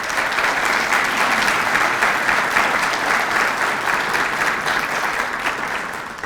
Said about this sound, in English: Now let's give them a round of applause.